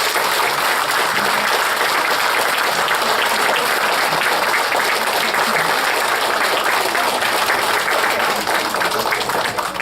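Loud, sustained applause from an audience standing at a military course ceremony, honoring the participants' families, with continuous dense clapping throughout.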